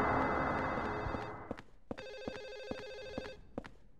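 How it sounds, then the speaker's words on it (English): A telephone ringing in the video game Silent Hill 4: The Room, an electronic bell tone repeating in evenly spaced bursts after a loud noisy passage fades out. "Never ending phone."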